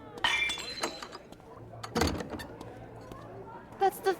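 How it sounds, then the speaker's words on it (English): A drinking glass shatters in Life is Strange: Double Exposure with a sudden crash and a few tinkling clinks, set among conversation and quieter background noise. "That's the third glass this week"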